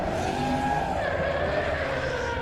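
Drift car with engine trouble struggling to hold a slide, its engine droning steadily alongside sustained tyre squeal and skidding, loud and continuous throughout with no voices.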